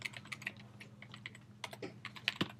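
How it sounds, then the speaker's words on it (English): Rapid clicking of computer keyboard keys as a short title is typed out, an uneven run of crisp, close taps with no talking. "where you just type out a title."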